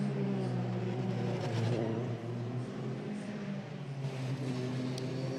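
Euroformula Open racing car engine during qualifying at the Pau street circuit in France, a steady droning engine note with gear-change shifts, fairly distant under overcast-day ambience.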